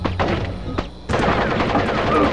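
Bursts of video game gunfire from Splinter Cell: Pandora Tomorrow on PlayStation 2, loud and close, with a quick string of shots, a short pause, then a denser rapid volley with no talk over it.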